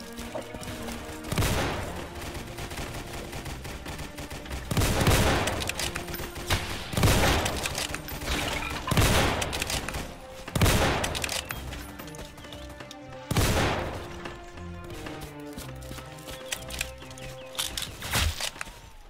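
DP-28 light machine gun in a Roblox World War II shooter, fired in repeated loud bursts of rapid shots with short gaps between them, mixed with other battlefield gunfire.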